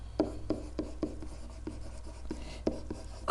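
A pen writing by hand during a math lesson on circles, with about a dozen soft, close strokes and taps in a steady, uneven rhythm.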